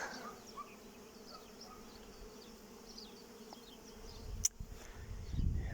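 Carniolan honey bees buzz around two hives, a steady, fairly faint hum of many insects with a few closer passes, and louder rumbling handling noise near the end.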